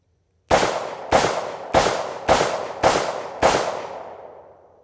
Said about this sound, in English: So let's do a cylinder dump and see what happens here.